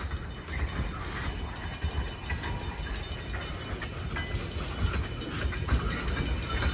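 An ELS 400 freight train rolls south through Iron Mountain in a steady, continuous rumble with faint wheel clatter. No one speaks and no horn sounds.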